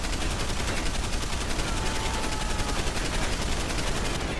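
Rapid gunfire in Deus Ex: Human Revolution, a fast steady stream of shots hammering on without a break, loud and dense throughout.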